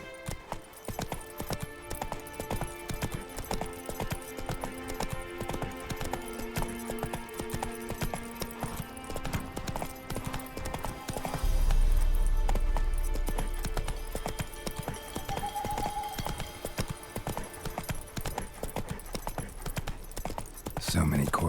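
Horse hooves clip-clop in a rapid, rhythmic gallop in The Witcher 3 game, close and steady throughout, with a heavier rumble midway and a voice speaking over the hoofbeats.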